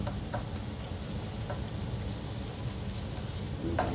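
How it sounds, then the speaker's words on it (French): Morel mushrooms for a Christmas capon sauté gently in a pan, producing a low, even sizzle with a few light stirring taps. "Donc là, on fait revenir un petit peu les morilles."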